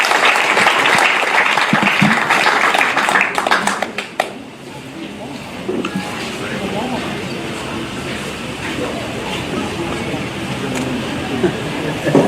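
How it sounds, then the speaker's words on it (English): Audience applause at an African library project summit, loud and dense clapping for the first four seconds, then dropping to a softer, scattered patter that continues under voices and crowd murmur. "Another round of applause for Professor Odhiambo."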